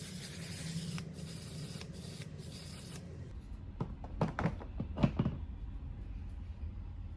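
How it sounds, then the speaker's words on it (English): A can of makeup setting spray rattles in several quick shakes, followed by a few short bursts of aerosol spray, fairly close and distinct. "You wanna make sure you do a good shake."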